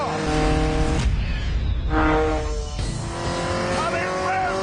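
A tiny 580-kilogram sports car that revs to 8,500 RPM screams loudly and close, its rising engine note climbing and dropping through repeated gear changes, with someone talking over it.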